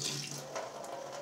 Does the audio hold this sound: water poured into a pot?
yes